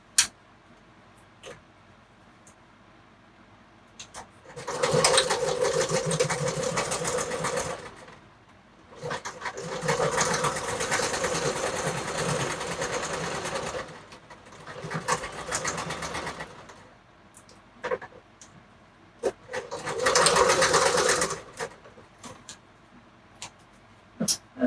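A sewing machine stitches fabric in three or four sustained runs of rapid chattering, separated by quiet pauses with small clicks and handling noises, close by and with no talking.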